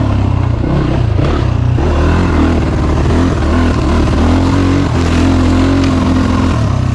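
A 2018 SSR 250S dirt bike engine labouring up an incline in first gear on a trail: a loud, close, steady mid-pitched drone with rising and falling revs and a clattery edge, without a break.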